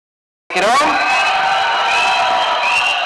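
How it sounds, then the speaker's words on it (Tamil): A stage-event crowd at the Garudan audio and trailer launch welcomes Sivakarthikeyan with applause and cheering. After a moment of silence, loud whoops, yells and cheers burst out all at once and stay at full strength to the end. "நல்ல நல்ல கைத்தட்டலோட நம்ம வீட்டு பிள்ளைனா எம்ஜிஆர், எங்க வீட்டு பிள்ளைனா வேற யாரு, அண்ணன் எஸ்கே அவர்களை பேச அழைக்கிறோம்"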